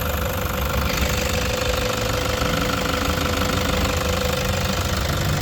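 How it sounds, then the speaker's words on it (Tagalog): A Toyota Hiace diesel engine runs just after starting, giving a loud, steady, close clatter with a rapid knocking rhythm and no talk. "Okay, normal naman yung tunog mga paps. Ganyan talaga tunog ng diesel."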